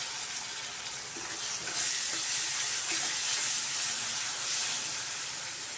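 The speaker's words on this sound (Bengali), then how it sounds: "রসুন বাটাটা দিয়ে একটু ভালো করে ভাজবো।" Onion and garlic paste frying in a pan for egg curry, giving a steady, close sizzle and hiss that swells a little partway through, with no talking.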